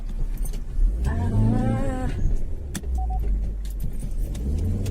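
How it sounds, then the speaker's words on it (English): A car approaching and passing close on a narrow road, its engine hum swelling and dropping in pitch as it goes by, followed by steady low engine rumble, with a brief faint lowing near the end. "there's a car coming"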